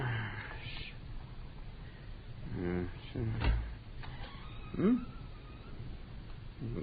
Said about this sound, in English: Let's get that cat seen to.